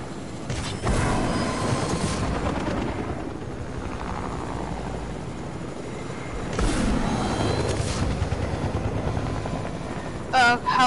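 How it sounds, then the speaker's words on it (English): A helicopter's rotor thrum drones through an in-game battle, swelling louder at moments, with sharp bursts near the end. "Helicopter battle."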